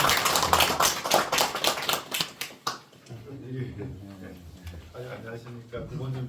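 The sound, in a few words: audience applause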